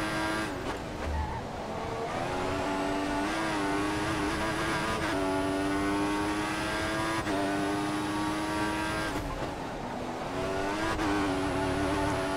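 Formula One race car in the F1 2014 video game at Sochi, a loud in-car engine whine climbing through gears with repeated upshifts and rev drops, continuous with no talk.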